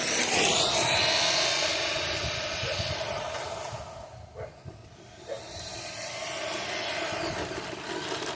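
An Arrma Infraction RC car motor runs at full throttle, a steady high-pitched whine that dips briefly in the middle before returning loud and continuous.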